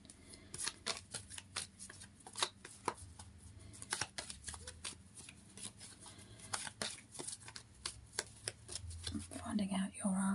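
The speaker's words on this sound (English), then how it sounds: "Trying to shuffle these as well as balance myself" A deck of tarot-style cards being shuffled by hand, a run of crisp riffling and slapping bursts in uneven rhythm, close and fairly quiet, with soft speech in places.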